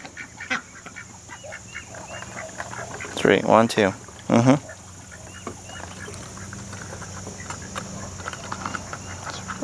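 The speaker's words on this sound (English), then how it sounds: "Got two girl ducks" Two female ducks quack in a quick burst of loud, close calls during morning farm chores, with people talking before and after.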